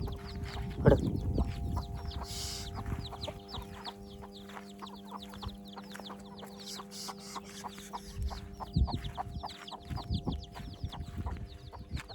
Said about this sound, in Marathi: कोंबड्या सोडून देतो आतमध्ये